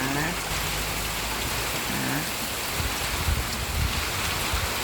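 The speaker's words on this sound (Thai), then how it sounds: "ฟังเสียงฝนไปด้วย" Steady rain falls continuously, a dense even hiss with occasional heavier drops, close by and fairly loud, with no voices.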